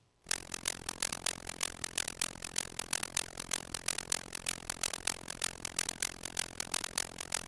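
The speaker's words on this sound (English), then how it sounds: "If we do this, it basically becomes much more like white noise." Synthesized white noise layer in an electronic music beat-making session, played dry without modulation or side-chaining, a steady loud broadband hiss with repeating rhythmic pulses running throughout.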